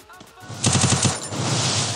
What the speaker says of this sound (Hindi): कहीं और ही गोली चल रही है